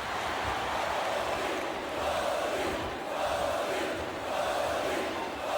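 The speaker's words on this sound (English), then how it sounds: "This capacity crowd definitely has their favorite in this contest" Crowd roar from a WWE SmackDown vs Raw 2008 extreme rules match between Mick Foley and Edge: a dense, steady wash of cheering that swells and dips slightly throughout, with no voices standing out.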